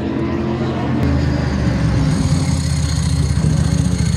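A Kawasaki endurance-racing motorcycle at the Bol d'Or at Le Castellet drones steadily while running rich, a continuous close engine hum with a slight rise in intensity after the first second.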